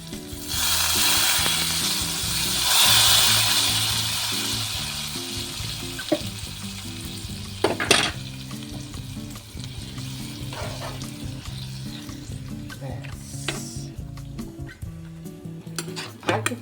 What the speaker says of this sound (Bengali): রসুন আর কারি পাতা ফোড়ন দিয়েছি, তার মধ্যে একটু গুঁড়ো লঙ্কা দিয়ে দিলাম